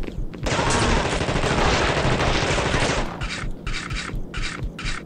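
Close, loud sustained automatic gunfire in The Thing game, a dense continuous burst for three seconds, then shorter rhythmic bursts with brief gaps between them.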